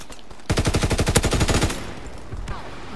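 A rapid burst of automatic gunfire in a World War II video game, roughly a dozen quick loud shots in about a second, then fading rumble and a single later thud.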